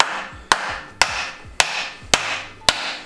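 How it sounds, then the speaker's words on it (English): A hammer knocks at the starter of a BMW E46 in five sharp, evenly spaced metallic blows, loud and close, with short ringing decays between strikes and no talking. "we'll get ourselves a hammer to knock the starter off"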